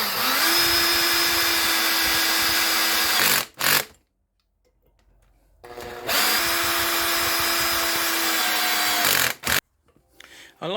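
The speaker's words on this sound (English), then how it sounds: "I like to leave the torque clutch on my power driver relatively loose to avoid any potential damage" A power driver with a loose torque clutch whines steadily through two long runs as it tightens M6 bolts with star washers on a double bass bending iron. A short stop and ratcheting clicks end each run.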